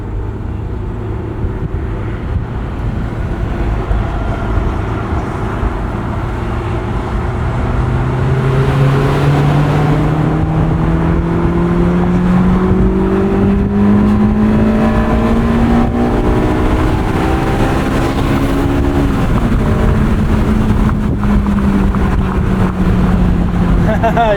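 A Honda S2000 sports car engine drones steadily close by, its pitch climbing through the revs and dropping at gear changes, a continuous loud mechanical roar.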